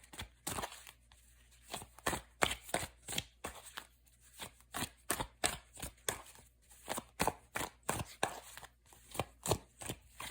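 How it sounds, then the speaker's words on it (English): A tarot card deck being shuffled by hand, a rapid series of crisp riffling bursts in an irregular rhythm, close and fairly quiet, with no speech over it. "let me give it another shuffle"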